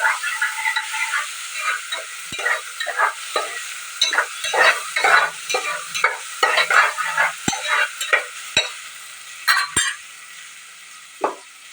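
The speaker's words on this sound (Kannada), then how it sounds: "ಈಗ ಚೆನ್ನಾಗಿ ಫ್ರೈ ಮಾಡ್ಕೊಳ್ತೀನಿ" Onion and tomato fry in a pan while being stirred, bursts of sizzling and scraping in uneven strokes with a few sharp clinks of the spoon against the metal, close and fairly loud, no voices.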